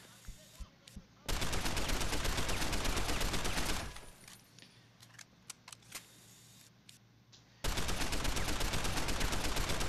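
Gunfire in Deus Ex: Human Revolution, dense sustained bursts that start and stop abruptly, with quieter single shots in the gaps between two long volleys.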